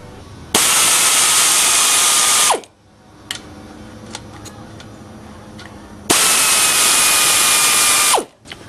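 Ratchet wrench loosening the cylinder head bolts on a Briggs & Stratton 9 hp engine, two loud sustained bursts of rapid clicking separated by quieter tapping and handling noise, close up with no talk.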